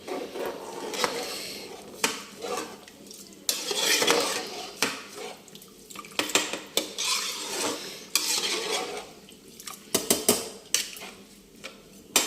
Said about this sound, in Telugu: ఇలా కలుపుతూ ఉంటే అడుగు పట్టదనమాట.